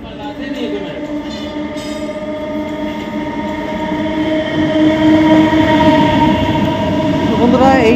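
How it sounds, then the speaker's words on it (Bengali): The Howrah–Ranchi Shatabdi Express of Indian Railways stands at a station, its sustained tonal hum and horn-like drone swelling louder over several seconds, ending with a squealing rise, while voices murmur in the background. "শতাব্দী এক্সপ্রেস, হাওড়া রাঁচি শতাব্দী এক্সপ্রেস এই মুহূর্তে আপনাদের সামনে"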